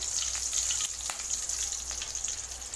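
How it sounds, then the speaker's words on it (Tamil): Green chillies frying in oil for an egg kuruma, a steady soft crackling sizzle with scattered small pops, continuous and fairly close, no talking. "பச்சை மிளகாய் எண்ணெயில் நல்லா வதங்கட்டும்"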